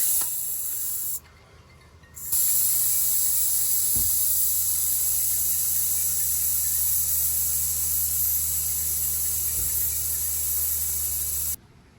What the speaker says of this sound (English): take the cap off of the nozzle and just let the air out with a screwdriver